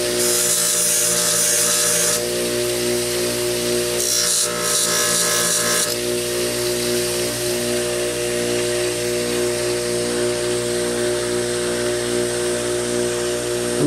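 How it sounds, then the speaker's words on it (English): A titanium folding-knife part is cleaned on a Scotch-Brite wheel on a grinder. The motor whines steadily and close the whole time, and a harsher rubbing hiss rises twice where the metal is pressed to the wheel. "I can take it over to the Scotch-Brite wheel or the grinder and clean that up."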